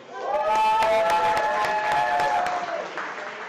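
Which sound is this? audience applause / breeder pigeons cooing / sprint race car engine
audience applause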